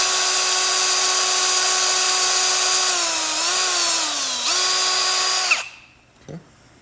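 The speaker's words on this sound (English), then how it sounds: "take that 1/4" drill bit and run it through the handle itself" A power drill with a 1/4-inch bit whines steadily at high pitch while boring through a metal Land Rover Defender door handle, dipping briefly under load, then cuts off abruptly with a short clatter afterward.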